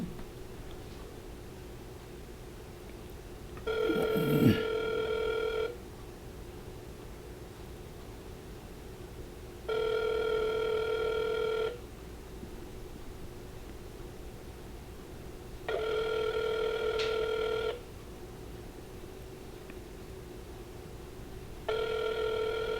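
A telephone rings during a call, four evenly spaced bursts of ringing separated by silent gaps, fairly clear and alone against a faint background hiss.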